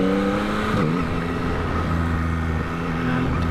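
Motorcycle fitted with a quick shifter, heard from the rider's position while accelerating toward a village, producing a loud, continuous engine drone with a brief pitch dip at a gear change before the tone climbs steadily again.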